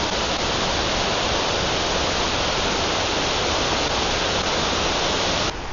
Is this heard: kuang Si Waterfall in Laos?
yes